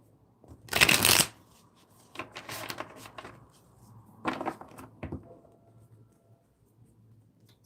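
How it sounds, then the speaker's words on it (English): Tarot cards riffled and shuffled by hand in a quiet room, one loud burst followed by several softer shuffling bursts and light card handling. "Shuffle these."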